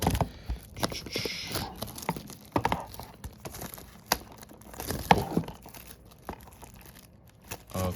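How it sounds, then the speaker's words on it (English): Plastic wrap being peeled and torn off a Spider-Man trilogy DVD case, close crinkling and crackling in irregular bursts with sharp tearing snaps, no talking. "All right, now we can just peel it open."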